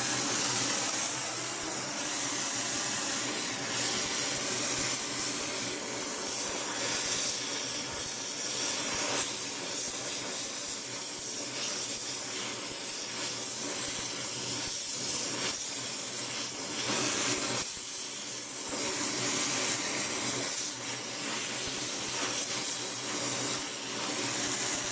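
A neutral brazing torch flame hisses loudly and steadily while preheating a countershaft hanger for an Atlas 10-D lathe, a close continuous roar with slight fluctuations and no talk.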